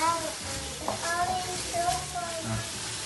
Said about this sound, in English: Bella, continue to stir.